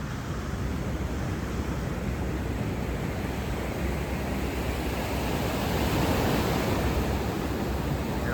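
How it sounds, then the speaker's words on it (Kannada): Sea waves rolling in at Suratkal lighthouse beach in Mangalore make a continuous broad roar of surf that swells slightly toward the end, with no voices. "ಇದು ಎದುರುಗಡೆ ಸಮುದ್ರ ಇದೆ."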